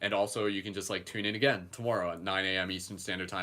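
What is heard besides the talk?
No everyday noise stands out behind the speech.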